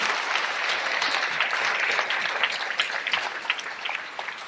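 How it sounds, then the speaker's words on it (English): A live audience at a veterans storytelling show applauds storytellers and singers returning to the stage, with dense, steady clapping that stays loud throughout before thinning slightly at the end. "please come back up and take your well-deserved applause"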